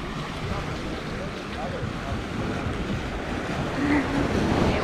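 Ocean waves wash onto the beach at Cane Garden Bay, Tortola, a steady broadband surf roar with wind buffeting the microphone, swelling slightly toward the end, with no talking.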